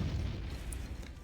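Artillery in the video game Panzer Corps Gold fires a single deep, muffled boom that rumbles briefly and fades.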